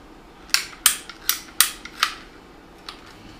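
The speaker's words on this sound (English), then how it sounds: "I'm using the Irwin pipe cutters." Irwin pipe cutters snipping through an air compressor hose on a Bonaire BA120B mini inflator, giving a series of about six sharp, close clicks and snaps spaced unevenly, then one fainter snip, with no talking.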